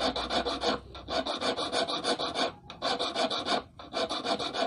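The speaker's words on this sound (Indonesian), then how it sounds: "Oke, kita langsung lanjut ke kikir bulat" A round file rasps back and forth against a steel fishhook being shaped from a disc brake rotor, steady rhythmic close-up strokes repeating alone for several seconds with brief pauses between passes.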